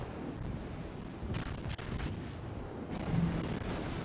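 Naval artillery in World of Warships fires and lands around a ship, with several muffled booms and thuds rising out of a low rumbling background, fairly faint overall.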